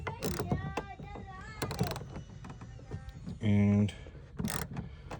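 Ratchet clicking as it loosens a bolt reached inside a truck door with the panel still on, an OBS Powerstroke Ford truck; a short burst of rapid mechanical clicks under a man's speech.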